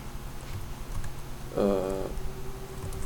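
Soft, quiet computer keyboard typing while writing code, a short burst of key taps against faint room noise with no talking.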